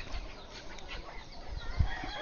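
An Australorp chicken, a black-feathered breed with a red comb, gives a few soft clucks close by over low background noise.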